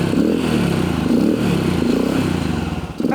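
A Yamaha dirt bike engine fires on the second kick start and runs in a loud, close, uneven rattling burble for about three seconds, dropping off near the end.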